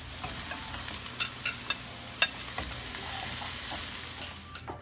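Small onions, celery stalks and apples sizzle steadily in a pan for cornbread dressing, with a constant broadband hiss broken by a few sharp clicks and pops as they are stirred, close and fairly loud, no talking.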